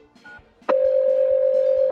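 A telephone number is dialed in a cartoon: a short tone, then a sharp click followed by a long, loud steady beep lasting over a second, ending in another click, with no voices.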